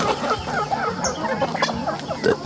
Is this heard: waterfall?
no